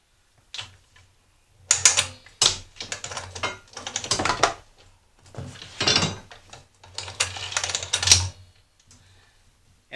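A Harbor Freight Central Pneumatic 3/8 in. by 50 ft. spring-driven retractable air hose reel winds its hose back in, heard as bursts of rapid mechanical clicking and rattling separated by short pauses, fairly close and with no talking.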